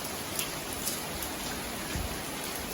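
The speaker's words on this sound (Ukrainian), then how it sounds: "Був такий рівнесенький дощик," Soft, even rainfall patters continuously, with occasional individual drops ticking nearby.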